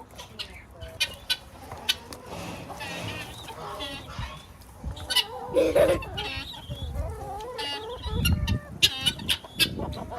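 Chickens cluck and murmur in a lively farmyard, several birds close by with irregular clucks and squawks, louder toward the end.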